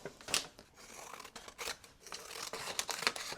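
Scissors snip through a paper Amazon packaging envelope, giving several crisp, separate cuts with short pauses between them. The sound is close and fairly quiet, with no speech.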